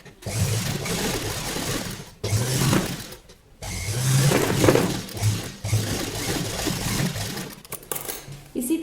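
Sewing machine stitching a child's sleeveless summer frock, running in several close bursts of rapid mechanical chatter separated by short pauses.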